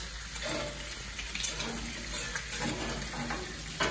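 Roasted tomatoes frying in a pan for a bacon and eggs breakfast give a steady, moderately close sizzle with faint clinks of a spatula, continuous throughout with no talking.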